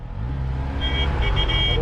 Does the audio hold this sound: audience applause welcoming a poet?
no